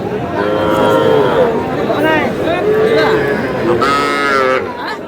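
Several young bull calves moo repeatedly, overlapping bawls close by, with crowd chatter and murmuring voices in the background at a livestock market in Madaripur.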